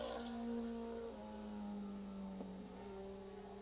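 A big Suzuki superbike races at Willow Springs raceway. Its engine drones at a steady pitch that drifts down as the bike pulls away, heard from a distance, fairly faint and continuous, with no talk over it.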